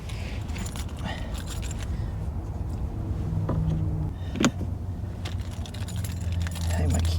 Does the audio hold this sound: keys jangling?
yes